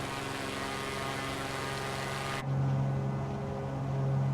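A Beechcraft Baron propeller plane in Microsoft Flight Simulator drones with a steady, dense engine tone. Partway through the sound shifts abruptly to a deeper, heavier hum with less hiss.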